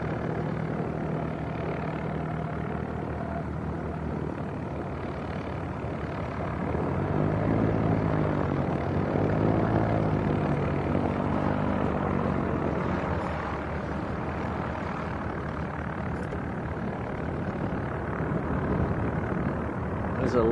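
Piper Cherokee light aircraft engine at Leeds East Airport, heard from about 20 yards away: a steady, loud propeller drone that swells slightly midway and then settles, with no talk.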